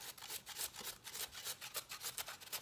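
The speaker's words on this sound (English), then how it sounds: "I'm gonna grate the carrot right into here" A carrot is grated by hand into a bowl for homemade coleslaw, a quiet run of quick, rhythmic rasping strokes repeating steadily with no talking.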